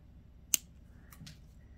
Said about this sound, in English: I'll cut this wire off right here at the end of this bicone